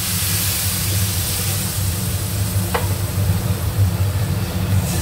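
Water poured over fried soaked basmati rice in a pan fizzes in a steady, loud, close sizzle with a faint low hum underneath.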